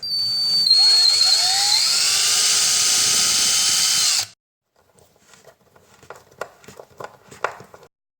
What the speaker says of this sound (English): Don't drill all the way through.